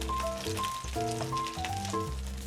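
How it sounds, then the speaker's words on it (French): A salmon fillet sizzles in a hot frying pan, a steady close crackling hiss that runs throughout, with musical tones playing over it and no talking. "Même chose avec le deuxième pavé de saumon."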